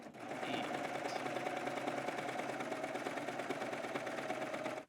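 A serger sewing knit fabric runs at a steady, fast mechanical chatter for several seconds, close up and even, then abruptly stops.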